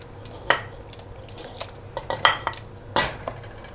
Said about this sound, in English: Making sure to stir it in well